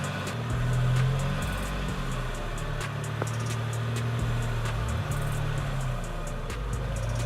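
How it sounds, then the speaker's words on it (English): A Mitsubishi Pajero Sport SUV with its off-road locks engaged pulls away on rough terrain. Its engine swells briefly, then settles into a low, steady drone with scattered clicks and knocks, fairly close, and no one speaks. "So here we go, hitting the throttle pedal, and the car immediately gets moving forward."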